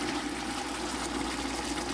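Hot water pours steadily into a pot of lentil and squash soup, a continuous, close, bubbling splash at an even level throughout with no break.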